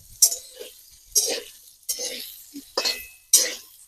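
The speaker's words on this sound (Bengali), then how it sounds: "আলুর সাথে ভালো করে বারবার মেরে নেবো আমি মশলাটার সাথে আলুটা মিশিয়ে দেবো ভালো করে" A spoon stirs potatoes with spices in a pan, giving about six separate metallic clinks and scrapes at roughly even intervals, close and fairly loud against otherwise quiet background.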